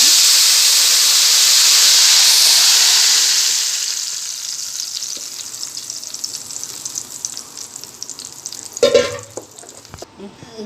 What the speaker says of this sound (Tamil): சிம்மில் வச்சுட்டு நான் இதை தக்காளி ஊற்றுறேன்